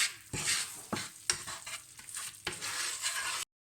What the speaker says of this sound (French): J'ajoute le sucre. Et je mélange doucement.